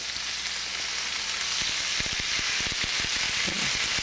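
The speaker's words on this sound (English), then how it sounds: "So we just saute the beef. This will take a few minutes, and all we're doing is browning it." Beef sautés and browns in a pan like a stir fry. A continuous loud sizzle runs throughout, with a scatter of sharp clicks and taps from stirring in the second half.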